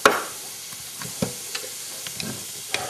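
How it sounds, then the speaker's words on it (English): Food sizzling in a hot pan, a steady close hiss punctuated by a few soft clicks and stirring taps. "you're going to hear it sizzle"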